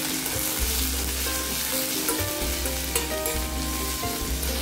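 Onions and tomatoes sizzle and crackle steadily in hot oil, with occasional stirring scrapes and clatters from a pan close by.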